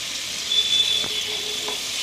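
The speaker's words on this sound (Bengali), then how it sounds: "এখন আমি করলা ভাজিটা এটার মধ্যে রান্না করে নেব।" Bitter gourd (karela) pieces frying in oil in a pan, a close, steady hiss of sizzling with a brief louder burst of crackle, no one speaking.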